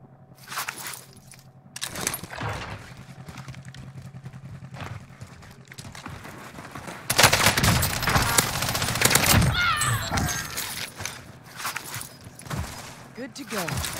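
Full-auto akimbo Sykov pistols fire in a Call of Duty-style game with rapid, loud bursts, heaviest in a sustained stretch midway, mixed with game effects and someone speaking throughout.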